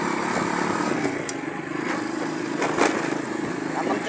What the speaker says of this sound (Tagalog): ngayon guys, ito nga, nagdadrive ako ng motor